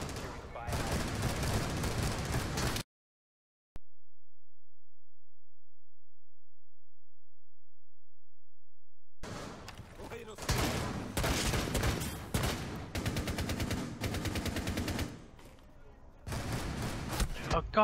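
Gunfire from a video game, loud rapid bursts and sustained volleys in two stretches separated by several seconds of total silence, with a voice speaking over parts of the firing.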